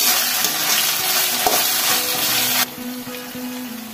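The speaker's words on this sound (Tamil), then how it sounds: "பச்சை வாசனை போறது வரைக்கும் நல்லா வதக்கிக்கலாம்." Ginger garlic paste sautéing in a hot pan for chana masala, a steady loud sizzle with the scrape of stirring throughout, settling to a quieter fry with a low hum near the end.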